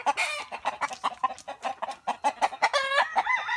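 Native chickens on a farm give repeated clucks and squawks with a rooster-like crowing call near the end, close and fairly loud in a busy rhythmic series.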